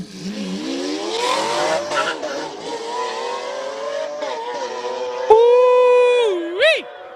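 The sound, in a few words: Lamborghini Aventador accelerating up the hill climb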